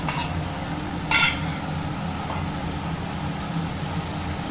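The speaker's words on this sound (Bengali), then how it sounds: "এটা এখন একটু আমি ভালো করে ভেজে নিব" Pointed gourd frying in a pan, a steady sizzle throughout with a brief louder burst of stirring or scraping near the start, close and continuous with no talk.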